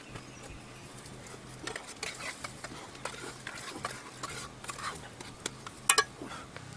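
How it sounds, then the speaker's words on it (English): Eggs scrambling in a generous amount of butter in a pan, a soft continuous sizzle under scattered clicks and scrapes of a utensil, with a brief sharper clatter near the end. "There goes our eggs in to scramble away"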